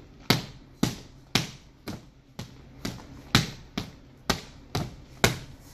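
Power punches land in a steady, even rhythm, about ten sharp thudding impacts spaced roughly half a second apart during a boxing workout, each one crisp and close with a quick decay.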